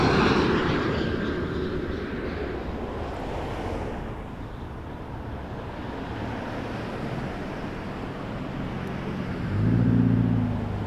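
A Turkish Airlines Boeing 777-300 in from Istanbul lands at Toronto Pearson Airport, a broad steady jet roar with wind noise, swelling louder near the end.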